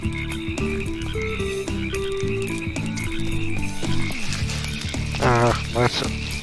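A frog croaks in the video game Ty the Tasmanian Tiger, brief ribbit-like calls heard over looping game music while a person talks.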